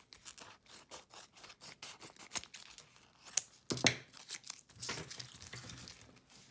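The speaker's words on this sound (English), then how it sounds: "I like to cut out around the edges to get rid of the big stuff before I trim it to size." Scissors cut around the edges of a stitched bunny-ears headband craft piece just out of the hoop. The snips come close and quiet in a quick series, with fabric rustling and crinkling between the cuts.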